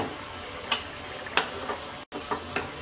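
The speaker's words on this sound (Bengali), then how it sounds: "বলক চলে আসছে।" Water for chicken pulao coming to a boil on the stove, a steady bubbling hiss with occasional soft pops and clinks, close by and without speech.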